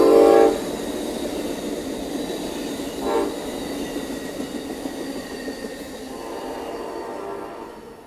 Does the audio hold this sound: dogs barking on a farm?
no